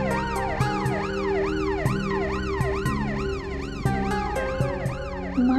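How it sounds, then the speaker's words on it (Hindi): Loud wailing ambulance and police sirens rise and fall continuously, several overlapping, with occasional short thumps beneath, close by and steady throughout. "माँ, ये एम्बुलेंस और ये पुलिस के हॉर्न की आवाज क्यों आ रही है?"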